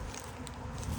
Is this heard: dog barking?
no